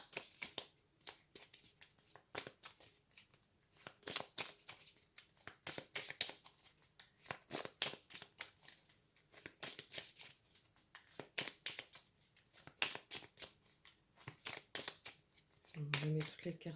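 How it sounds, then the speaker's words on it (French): Playing cards are shuffled and mixed by hand on a surface, giving quick repeated papery riffles and slaps in bursts, close and fairly soft, with a person talking intermittently over them. "Je mets toutes les cartes en bazar ici"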